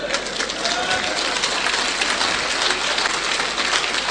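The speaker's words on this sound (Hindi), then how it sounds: "तालियां बजा रहे हैं" An audience at a business seminar in India claps together, producing a dense, even wash of applause that holds steady throughout with no single claps standing out.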